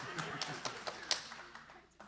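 An audience at a legislative reporters' roundtable gives a short burst of light, scattered claps, a handful of sharp taps fading quickly under a faint voice.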